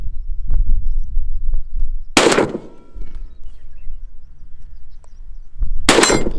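Two loud, sharp AR-15 rifle shots ring out outdoors a few seconds apart. Each crack decays briefly, with faint background rustle between them.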